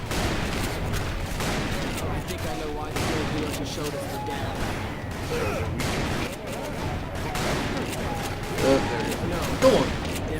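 Gunfire in the Call of Juarez: Bound in Blood western shooter, scattered shots and bursts under a person talking, with a couple of sharper, louder shots near the end.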